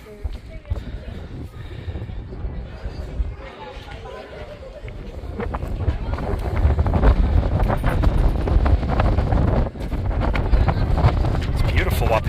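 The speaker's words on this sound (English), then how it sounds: "Very windy though." Wind gusting across a hilltop on the Gettysburg battlefield, a loud steady roar buffeting the microphone and building stronger toward the end.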